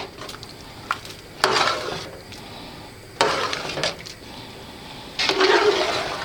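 A spoon stirring and mashing rice in a pot over lowered heat, scraping and clinking in three longer bursts with small taps between, close and fairly loud.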